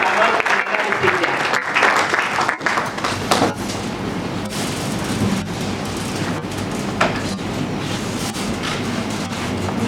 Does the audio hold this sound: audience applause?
yes